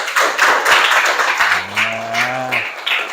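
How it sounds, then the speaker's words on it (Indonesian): Students applauding in a classroom, a broad noisy clapping that fills the room, with a low mooing-like animal or vocal tone rising briefly in the middle. "Tepuk tangan."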